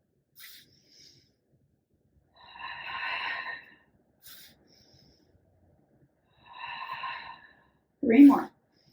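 Two long, airy breaths pushed out during a Pilates full-body workout, each lasting about a second and a half, near and moderately loud, with a sharper snort-like burst at the end.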